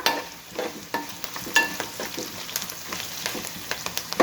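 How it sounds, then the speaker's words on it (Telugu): Ingredients fry in a pan until reddish, a close, continuous sizzle broken by repeated scraping and tapping from stirring. "ఇవి ఎర్రగా వేగాలి. ఇట్లా వేగినాయమ్మా."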